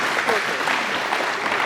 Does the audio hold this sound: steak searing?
no